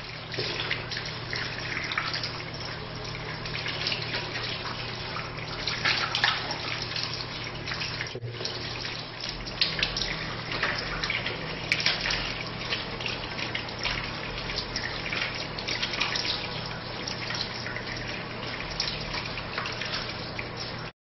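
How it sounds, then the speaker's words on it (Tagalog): Water runs steadily from a tap while hands are washed for Islamic ablution before prayer. The flow is continuous and moderately loud, with no speech, for about twenty seconds. "Hugasan ang dalawang kamay, simula dulo ng daliri hanggang sa siko ng 3 beses"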